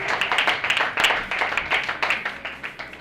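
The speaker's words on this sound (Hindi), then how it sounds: "आप लोग अपनी जोरदार तालियों से, जोरदार तालियों के साथ तैयार है" Scattered clapping from a small audience at a talent show, a steady rhythm of individual claps at moderate distance, fairly light and thin rather than a full roaring applause.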